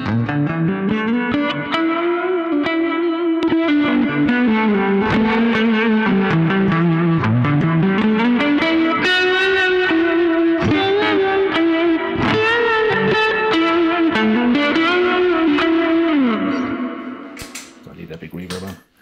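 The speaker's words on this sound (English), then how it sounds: "So yeah, that's the delay and reverb on clean sounds, and the compressor." Clean electric guitar played through delay, reverb and compressor pedals, sustained melodic lines with echoing repeats and a smooth, even level, close and loud throughout before fading out near the end.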